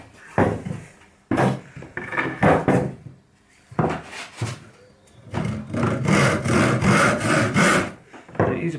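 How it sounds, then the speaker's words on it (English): A hand saw cuts a miter through pallet wood for a birdhouse, sounding as close rasping strokes in separate bursts with short pauses between them, then a long run of fast continuous strokes. "So let's cut. Get a big saw, you can use a tenon saw, you can use a rip saw"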